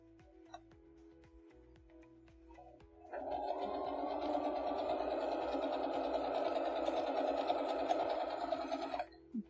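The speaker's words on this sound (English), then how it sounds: "I'm going back to my sewing machine" A home sewing machine stitches a quarter-inch quilting seam, starting after a few light clicks and then running steadily at a whirring, buzzing hum for about six seconds before stopping.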